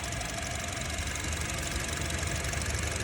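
A Honda City 1.5 automatic car engine with four new fuel injectors idles steadily and evenly, a low continuous hum with a faint mechanical knock, close and unchanging throughout.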